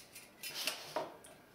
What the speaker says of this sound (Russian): У нее здесь вот железочки бренчат.